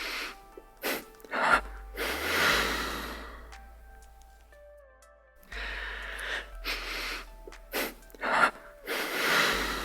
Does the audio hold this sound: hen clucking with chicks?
no